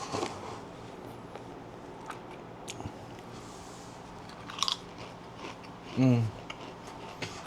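Pringles ultimate cheddar cheese potato chips crunch in a few sharp bites and chews near the mouth, faint between quiet moments, with one louder crunchy burst toward the end.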